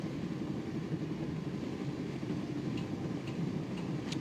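A steady low rumble of a train's interior on a night journey in the Broken Sword video game, with faint rhythmic ticking of the rails over a constant drone and a few light clicks near the end, no talking.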